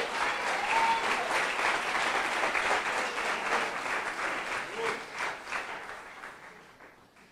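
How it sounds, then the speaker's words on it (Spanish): Church congregation applauding during a Spanish-language apostolic ministry sermon, sustained crowd clapping that holds steady and then gradually fades over several seconds, with no speech on top. "Démosle un aplauso al Rey."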